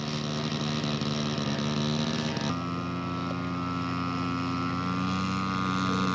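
A radio-controlled scale model aircraft flies with its engine holding a steady buzzing drone that shifts pitch partway through and carries on continuously.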